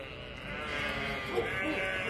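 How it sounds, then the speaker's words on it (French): Flock of ewes bleating softly at a distance, a faint wavering chorus of calls blended with light background noise and a murmur of voice. "Toutes les brebis qui viennent me dire bonjour, elles sont venues vers moi, elles ont accouru vers moi."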